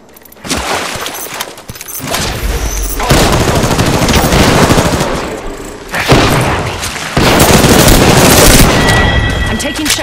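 Heavy automatic rifle fire in a battle royale shooter, long dense bursts of loud, close gunshots broken by short lulls, with booming impacts mixed in.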